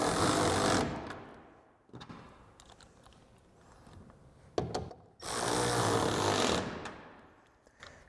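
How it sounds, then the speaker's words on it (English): A power tool drives 8mm screws into a 2021-2023 Ford F-150 LED taillight, two loud whirring bursts of about a second each separated by quieter handling noise and clicks, close up. "Now we can reinstall our 8mm screws."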